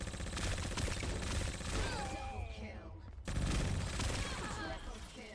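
Rapid bursts of gunfire in the T3 Arena shooter game, sustained automatic fire crackling loud and close with a short break near the end, mixed with game effects and a voice talking over it.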